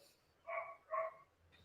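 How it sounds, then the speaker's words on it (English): Two short barks from dogs outdoors, spaced apart and faint with distance, rising over a quiet background with a low hum. "My dogs are outside. So yes, they're going to bark when people come by."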